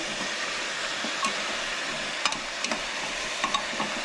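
Potato bhaji for pav bhaji sautés in a pan, a soft continuous sizzle broken by several light scrapes and taps from the stirring spoon.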